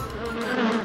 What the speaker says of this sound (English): A mosquito likes blood. Be careful of mosquito bites.